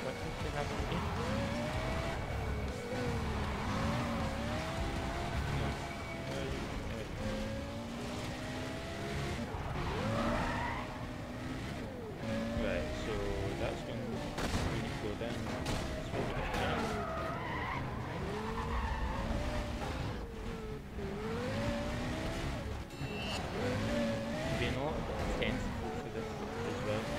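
A Porsche Carrera GT Ultra in the racing game Need for Speed World, with steady engine roar and repeated tire skids and squeals throughout, heard under continuous talking.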